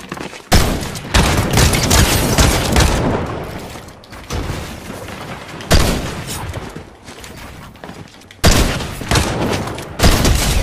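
Gunfire in Fortnite Chapter 5 Season 1: loud bursts of rapid shots and booming blasts land in three heavy clusters, with dense crackling reports between them and no clear talking.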